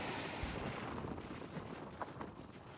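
Sea waves and strong wind at a Bhavnagar coastline during rainy weather, a steady roaring wash with wind buffeting the microphone, no voices.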